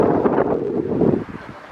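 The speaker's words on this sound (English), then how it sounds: "And man, is it windy." Strong wind buffets the microphone at a baseball game in Aruba in a loud, steady low roar that eases slightly toward the end.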